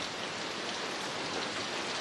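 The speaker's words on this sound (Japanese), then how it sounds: "すごい土砂降りでさ" A heavy downpour keeps up a dense, unbroken rushing hiss, soft and steady throughout with no one speaking.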